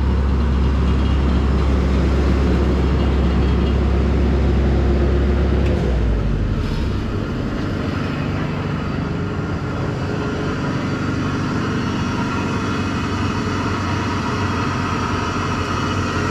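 Ford gas engine running, a close, steady idle rumble with a deep low hum that drops and changes character about six seconds in, then continues as a rougher, lighter running sound.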